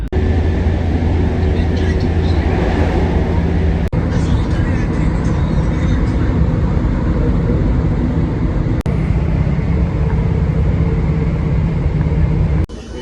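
Steady, loud low-pitched rumble and hum inside a moving train to Manchester carrying football supporters, with a couple of sharp clicks and voices murmuring faintly beneath.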